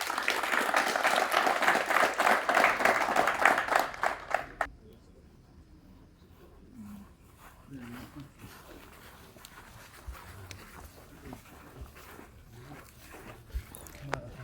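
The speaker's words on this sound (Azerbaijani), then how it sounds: "Amma sizin alqışlarınızla." Dense, loud audience applause at a company football final award ceremony runs for about four seconds, then stops abruptly and leaves quiet crowd murmur and scattered small sounds.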